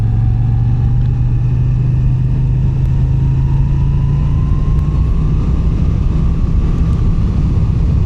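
A 2022 Moto Guzzi V9 Bobber engine drones loudly and steadily while riding, lugging at low revs through a turn, its pitch climbing slowly as it pulls, with constant wind rush and no talk.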